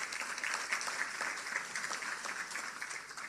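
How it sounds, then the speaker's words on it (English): Steady applause from an audience at a public sector service excellence awards ceremony, a dense continuous patter of many hands clapping throughout, moderately loud with no talking. "That deserves a round of applause."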